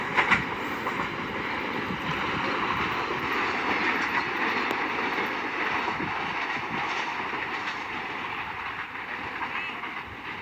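The Hazara Express runs through Mankiala station without stopping, hauled by a Hitachi locomotive, with a continuous close rumble and rolling rail noise that hold steady for the full passage.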